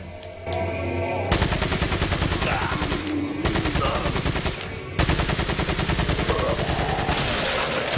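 Shotgun fire in the Resident Evil 4 video game comes as rapid, repeated loud blasts in long bursts over a dense backdrop of game noise, with no speech heard.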